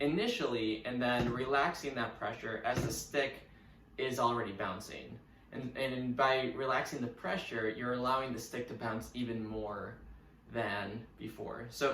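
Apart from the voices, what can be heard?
No distinct noise like a dog, phone or traffic.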